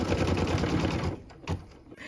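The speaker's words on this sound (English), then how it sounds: "we're going to go ahead and stitch the placement line for the snowdrift" A sewing machine stitches a white thread placement line for a snowdrift on a Christmas tree skirt wedge, running in a steady rapid mechanical rattle for about a second, then stopping, with a short burst of whirring after it.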